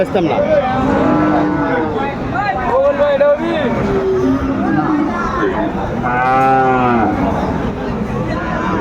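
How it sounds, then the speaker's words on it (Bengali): Cattle at a crowded livestock market for farm-ready bulls bellow again and again, deep drawn-out moos near and loud, one long call late on, with people talking and bargaining over them throughout. "সুন্দর কোয়ালিটির গরুগুলো।"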